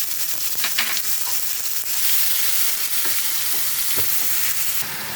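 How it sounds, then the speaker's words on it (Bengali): Chili powder, turmeric, whole cumin, salt and oil fry into a masala for a boal fish kalia, making a loud, steady hiss broken by occasional spoon scrapes. "লঙ্কা গুঁড়ো, হলুদ গুঁড়ো, গোটা জিরে আর তেল নুন দিয়ে আমি ভালো করে কষিয়ে নিয়েছি"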